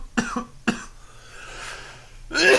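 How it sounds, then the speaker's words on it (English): Two sharp coughs near the start after inhaling vapor from a vape device, then a rising breathy sound and a louder harsh cough or throat-clearing burst at the end, close to the microphone in a casual indoor podcast setting. "I got enough vapor to cough."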